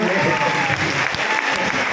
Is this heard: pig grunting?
no